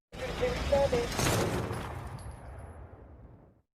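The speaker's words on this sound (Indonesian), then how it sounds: "Lalu, salah seorang penjahat yang menggunakan pistol langsung menembak Tommy." A single sharp pistol gunshot bursts out loud and close, then a long rumbling echo trails off over a few seconds.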